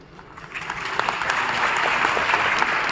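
Audience applause swells from a light patter into steady, sustained clapping from a large crowd.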